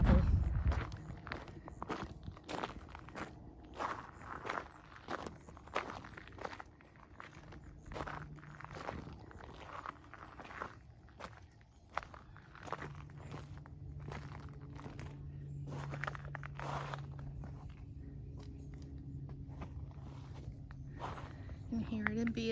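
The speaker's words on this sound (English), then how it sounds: "Don't you love the sound of gravel?" Footsteps crunching along a pea gravel pathway outside a farmhouse: a steady, quiet rhythm of crunching steps, with faint background ambience and someone talking over them.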